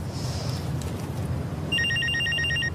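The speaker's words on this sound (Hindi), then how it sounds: "किसका फोन है?" A telephone rings in a quiet room during a Pakistani drama scene, its electronic trill starting partway through and repeating in a steady bursting pattern over a low background hum; no one speaks.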